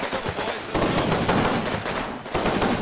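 Sustained machine gun fire from an MG team in the WWII strategy game Combat Mission Battle for Normandy, dense overlapping bursts of loud gunfire rolling continuously with brief dips between volleys.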